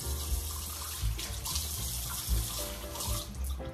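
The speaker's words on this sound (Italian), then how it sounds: "Quindi apriamo l'acqua, qui c'è il rubinetto davanti a me." Water runs steadily from a bathroom sink tap in a hotel on Santorini, a continuous close splashing hiss into the basin with small gurgles and no voices.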